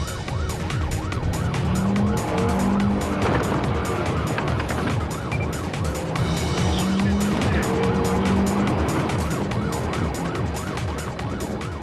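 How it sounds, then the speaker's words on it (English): A stolen 4x4 speeds down an unpaved track during a police pursuit, its engine roaring continuously and loud, with a siren's rising and falling wail running over it the whole time. "The suspects try and leave their pursuers in a cloud of dust by taking the car down an unpaved track"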